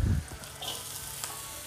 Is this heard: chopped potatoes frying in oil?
yes